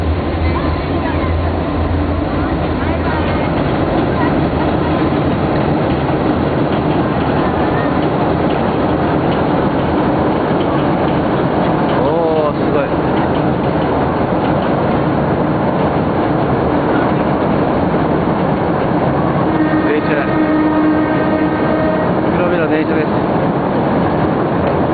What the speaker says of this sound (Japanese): お、電車来た。